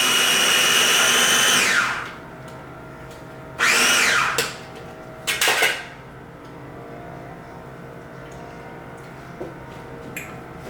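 A blender purees avocado salsa with garlic and mayonnaise in three loud bursts: a long whirring run, a shorter pulse, then a brief final burst, followed by near quiet.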